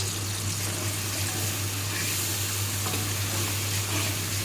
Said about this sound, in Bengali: এবার মশলাটা ভালো করে কষিয়ে নেব মিষ্টি দিলাম এক চামচ